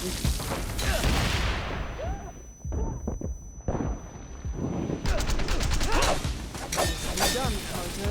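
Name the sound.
grenade explosion and gunfire in video game Wanted: Dead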